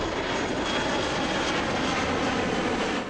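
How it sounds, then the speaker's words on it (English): An airplane lands at Tinker Air Force Base in Oklahoma, giving a steady, loud, broadband engine roar that holds constant throughout with no voices. "With every landing of an airplane, Tinker Air Force Base is bringing money and jobs into Oklahoma."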